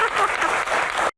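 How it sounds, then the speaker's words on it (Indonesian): Applause for a doctor at an indoor talk event on Indonesian insurance, a dense burst of clapping from an audience that runs steadily for about a second before cutting off abruptly. "tepuk tangan untuk dokter"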